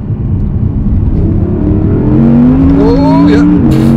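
Audi R8 rear-wheel-drive car, 2021 model, accelerating hard in second gear from about 30 mph, engine note rising steadily and loud up close with gearing harmonics climbing toward the end.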